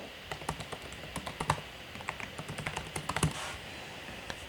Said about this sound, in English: I'm going to type in my old password